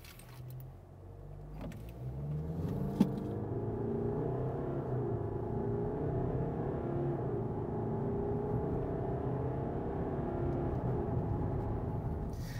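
A 2022 Land Rover Discovery Sport accelerating from 0 to 100 km/h, heard from inside as a steady low engine and road rumble that builds and holds, with a brief jangle of keys near the start and no talking.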